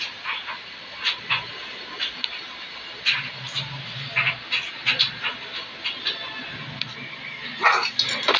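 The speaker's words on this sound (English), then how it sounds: "who filmed his dog growling at something unseen" A dog barks and growls in short repeated bursts, irregular and fairly close, with scattered sharp noises between the barks and no talk.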